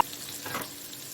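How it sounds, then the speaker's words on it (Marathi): Chopped large onion sizzles in two tablespoons of hot oil in a short, steady burst of frying noise with a faint stir. "आता मी दोन टेबलस्पून तेलामध्ये कांदा टाकला मोठा कांदा चिरला आहे"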